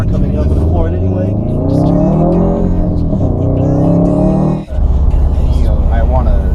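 A car engine drones loudly and steadily with a rich, shifting rumble, while people talk over it close by.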